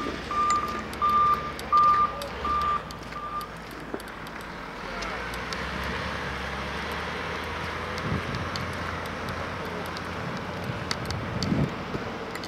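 A snow removal truck reverses at a high school snow dump during Milton's snow operations. Four or five evenly spaced reversing beeps sound at first, then fade into a steady outdoor wash of wind and distant engine rumble.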